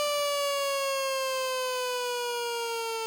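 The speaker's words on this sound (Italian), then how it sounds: "suona anche la sirena" A siren sounds at the close finish of a horse race in Cesena, a loud, sustained tone with a slowly falling pitch that holds for the whole stretch, alone without talk.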